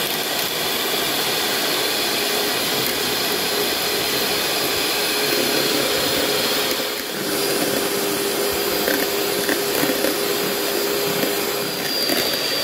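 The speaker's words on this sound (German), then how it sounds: "Inzwischen können wir auch Eiweiß mit Zucker vermischen. Etwas Salz dazu, nicht zu viel. Und das Ganze gut aufschlagen." An electric hand mixer whips egg whites with sugar and a pinch of salt, a steady loud whirring drone running without pause throughout.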